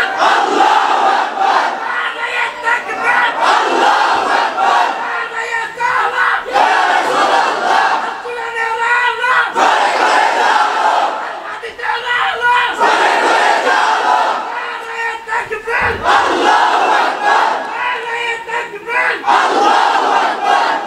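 A large crowd at a Bengali religious gathering loudly chanting Allahu Akbar in unison, with repeated roaring shouts that rise and fall in waves over about twenty seconds.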